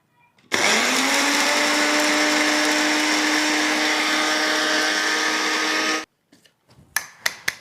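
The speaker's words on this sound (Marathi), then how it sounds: "मिक्सरला एकदम बारीक असं फिरवून घेऊया" A kitchen mixer grinder whirs loudly for about five and a half seconds, finely grinding roasted poppy seeds and coconut, a steady close motor whine that stops abruptly, followed by a few clattering knocks.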